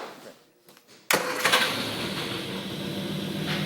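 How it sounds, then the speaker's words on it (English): Triumph GT6 engine, just restored, cranking and catching after a quiet start, then running loud and steady close by at a rough idle. "we're going to try another engine start."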